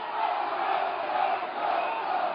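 A large crowd at a Donald Trump rally shouts together in a loud, sustained roar of massed voices, brief and continuous.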